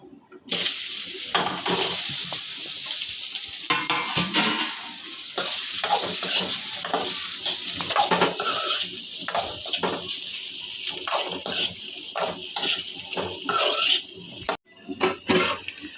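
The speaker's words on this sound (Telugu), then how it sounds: "ఇప్పుడైతే చిన్న కట్ చేసిన ముక్కలు, నూనె కూడా బాగా వేడైపోయింది. కొంచెం దూరగా వేయించుతా." Small chopped pieces dropped into well-heated oil for bagara rice, a loud, continuous close hiss and crackle that roars up after a quiet start and holds steady, with brief dips, no voices.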